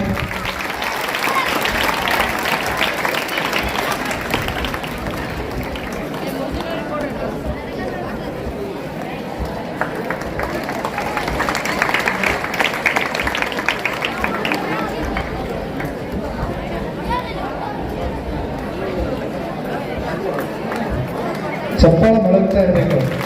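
A crowd applauds award-winning college students as they come up on stage at a school function. Dense, continuous clapping carries on throughout with crowd chatter mixed in, swelling briefly near the end.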